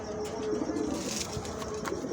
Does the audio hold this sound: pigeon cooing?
yes